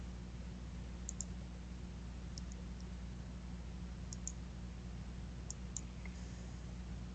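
Computer mouse being clicked: several light, faint clicks, some in quick pairs, spaced out over a low steady hiss.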